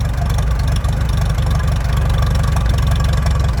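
Motor of an old machine running steadily while it runs out of fuel, a loud, close, low chugging drone with a rapid even pulse throughout.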